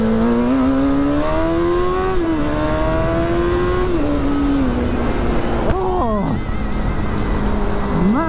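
A Streetfighter motorcycle engine revs and accelerates loudly and continuously, its tone climbing through the gears with a sharp dip and rise near the end, heard up close from the rider's position.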